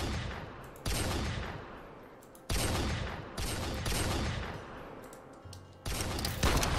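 Bursts of rapid video game gunfire from Minecraft, shooting at walkers, come in several loud repeated volleys separated by brief gaps.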